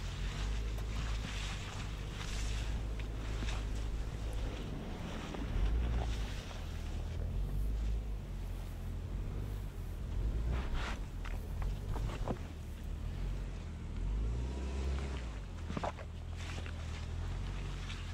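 A 2020 Subaru Ascent on snow tires climbs a snowy hill in X-Mode, giving a steady low rumble of engine and road noise with wind buffeting throughout and no voices.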